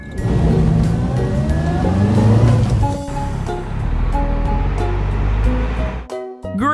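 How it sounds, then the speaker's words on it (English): A green convertible car driving, heard as a loud, continuous engine rumble that rises and surges, followed near the end by a brief quieter moment and a few short tonal sounds. "Green convertible car."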